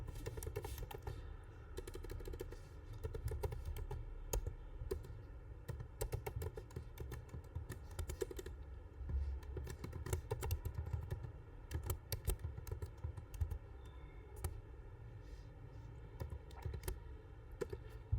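Typing on a computer keyboard while writing a small Python hello world program, with steady, fairly quiet clicking keystrokes, some in quick runs and some spaced out, over a constant low electrical hum throughout.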